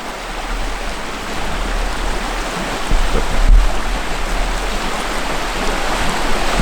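River water flows in a continuous, even rush of broadband noise, close by and fairly loud, with one soft knock partway through.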